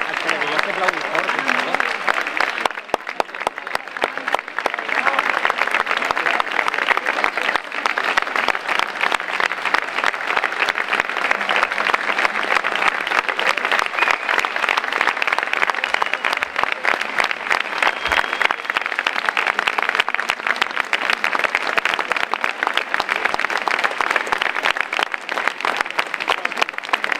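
An audience at a school performance claps loudly and steadily, a dense sustained wall of applause lasting the whole stretch, close and even, with a few voices faintly mixed in.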